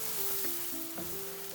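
Steady sizzling of prawns frying in a hot pan, a continuous close crackle with faint tonal hum and a few soft clinks.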